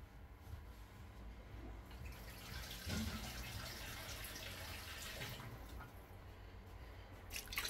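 Water pours steadily into a pot of stew for jollof rice at close range, a continuous splashing stream with a few drips, no voices.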